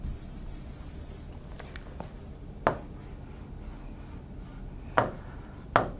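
Marker or pen writing a chemical formula for a JEE Main 2020 chemistry problem, heard as a short scratchy burst of strokes followed by a few sharp taps, close and faint over quiet room noise with no talking.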